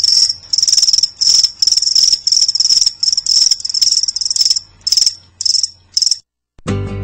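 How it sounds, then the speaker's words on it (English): Steady cricket chirping in regular pulsed bursts, loud and close, continuing for several seconds before stopping abruptly, followed by a brief different sound. "That's right, crickets."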